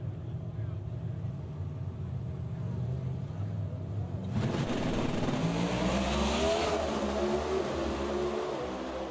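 Funny car drag race at the Reading Nationals, a near-continuous engine roar that builds sharply into a loud launch midway, with a race announcer talking over it.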